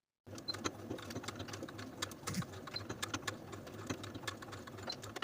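A sewing machine stitches bias binding onto a sleeveless blouse, a quiet, steady mechanical whir with rapid needle ticks running continuously, fairly faint and with no voices.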